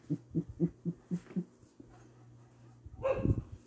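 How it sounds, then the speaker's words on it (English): A dog barks in a quick run of six sharp, moderately close barks, goes quiet over a low hum, then gives a rougher, louder burst of barking and whining near the end. "I'm about to kill that dog if you just shut the fuck up"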